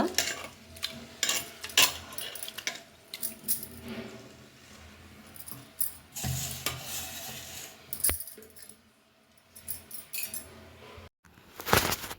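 Ragi dosa batter mixed with cooked rice is stirred in a vessel, giving repeated uneven scraping and clinking strokes at close range, with brief pauses between bursts and no speech.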